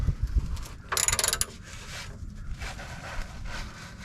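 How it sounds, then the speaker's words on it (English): A ratchet snugs a car's oil drain plug, giving a short burst of quick clicking among faint mechanical rubbing and handling noises, fairly quiet and close. "go in here with your ratchet and just snug it"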